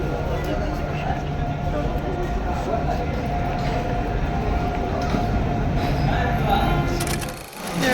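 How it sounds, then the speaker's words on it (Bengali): A train arriving at a platform near Howrah station, a continuous loud rumble and rolling clatter with people speaking over it, the noise dropping briefly near the end. "ট্রেন ঢুকে গেছে প্ল্যাটফর্মে"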